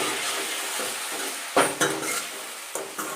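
Tomatoes go into a hot pan for a Gujarati stuffed eggplant curry, the low sizzle broken by several sharp scrapes and clanks of a spoon stirring against the pan, close by with no talk.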